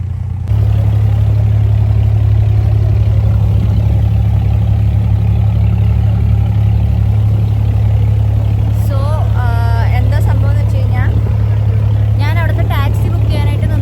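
A boat engine runs on Dubai Creek by the old village, its loud, steady low drone filling the whole stretch while voices rise briefly near the end.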